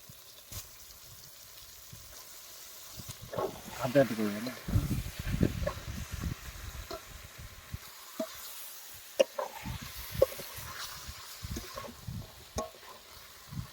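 Goat tripe pieces drop into oily spice paste in a pan and fry with a soft hiss and sizzle, along with scattered stirring clatters. A person talks over the cooking.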